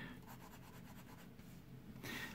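A Faber-Castell Grip fountain pen nib scratches faintly across paper in short repeated strokes, quiet and close, with a slightly louder scrape at the end.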